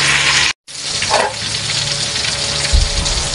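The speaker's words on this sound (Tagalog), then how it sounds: "hanggang sa maluto ang ating pritong bangus na may palaman" Stuffed milkfish (bangus) fries in a pan with a steady, close sizzle and crackle of hot oil, broken by a brief silent gap near the start and a low thump toward the end; no one speaks.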